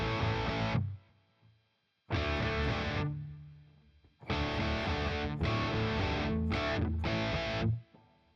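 An electric guitar with a crunchy distorted tone plays several loud chord bursts, each ringing out and decaying into a spacious hall reverb tail between the gaps.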